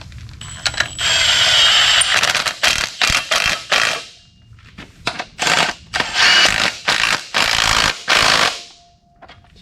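Impact wrench running on engine bolts during a K-series engine swap into a Subaru STI, loud rattling bursts in repeated short and long runs separated by pauses in a garage.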